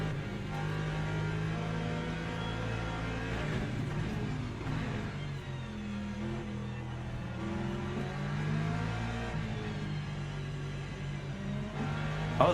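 Hypercar engines in the racing game Le Mans Ultimate hum and whine steadily at close range, their pitch rising and falling in layered drones as several cars approach, with no talking.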